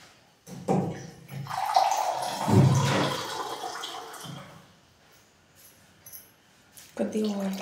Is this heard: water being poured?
yes